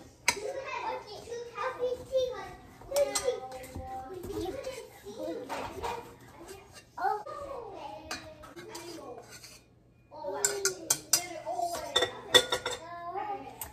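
Air-fried Jiffy cornbread is cut and moved onto a plate, bringing light clinks of cutlery and dishes while children talk and chatter throughout in a busy home kitchen.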